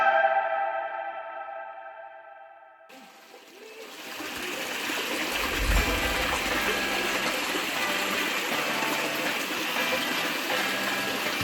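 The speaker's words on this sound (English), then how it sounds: "The water flowing here was damn clean and super clear." Clean, clear water flows at Ubavana Kindi near Chitradurga, a steady trickling stream heard close up, beginning after a few seconds of a different sound and continuing as a soft, even rush.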